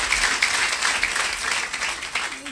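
A church congregation applauds together, a dense steady wash of clapping that fills the whole moment at moderate loudness, with no clear talk over it.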